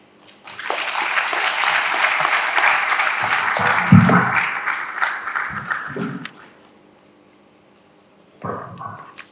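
Audience applause for the Chancellor of Miva Open University at a university event, a steady wash of clapping for about five seconds that thins out, followed by a short burst of speech near the end.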